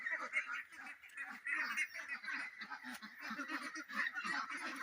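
Sick farm ducks, long ill, calling in a steady run of hoarse honking quacks, fairly faint and overlapping, with a voice speaking faintly at times.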